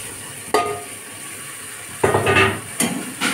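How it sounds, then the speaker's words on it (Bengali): Washed masoor lentils sautéed with salt and turmeric in a pan, a low sizzle broken by a few sharp spoon knocks and scraping stirs in short bursts, no talking. "দিয়ে ভালো করে কষে নেব।"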